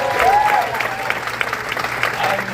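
Comedy club crowd applauding and cheering for the headliner, steady clapping with a whoop or two, fairly loud and close throughout.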